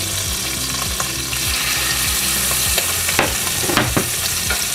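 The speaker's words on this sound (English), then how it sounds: "Quick little stir through there, get all that goodness all mixed up." Pork tenderloin medallions sizzling in a pan with a mushroom marsala sauce, stirred through: a loud, close, continuous frying hiss with rhythmic scraping stirs and occasional clicks, no talking.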